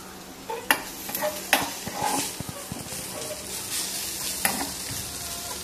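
Onions and ginger pieces browning in a pan for an Onam sadya dish, with a steady sizzle and several sharp scrapes and clacks of a spoon stirring through, moderately close.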